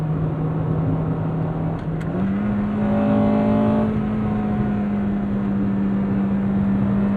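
A 1998 Acura Integra Type R DC2 with coilovers, its high-strung four-cylinder engine held at a steady drone then revved higher through a gear change, heard from inside the car, loud and continuous with no talk.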